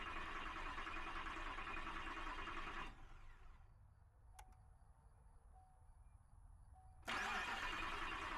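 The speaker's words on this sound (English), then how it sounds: "I cranked the engine first to help prime the pump before starting." A car engine cranks and catches after a power steering repair. Loud cranking gives way to a quieter running idle with a faint steady whine, then the engine sound rises sharply again near the end.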